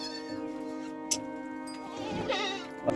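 A goat kid, in a herd where animals supplied under a government scheme are falling sick and dying, gives a few thin, wavering bleats, faint and close, with no talk.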